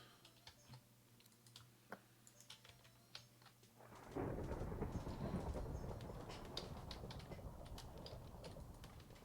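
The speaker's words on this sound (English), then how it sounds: "Oh good, it's a thunderstorm." Heavy rain and thunderstorm ambience from the Minecraft video game sets in suddenly partway through, a dense steady wash of falling rain over faint keyboard clicking heard earlier.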